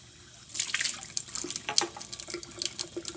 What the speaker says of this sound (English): you're going to want to make sure that you rinse out the inside of each of your beakers here